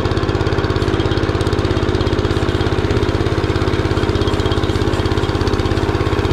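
MS-9 motoblock walk-behind tractor engine running at steady revs in third gear, a loud, close, continuous rhythmic chugging thrum with even pulses throughout and no voices.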